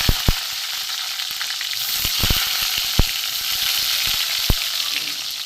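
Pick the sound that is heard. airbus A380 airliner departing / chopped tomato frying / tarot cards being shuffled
chopped tomato frying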